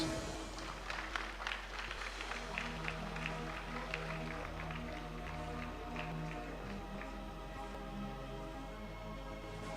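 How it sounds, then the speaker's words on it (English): Applause from the audience at a medical college graduation day ceremony, a steady, dense wash of clapping that holds at an even level throughout, with faint voices mixed underneath. "More applause."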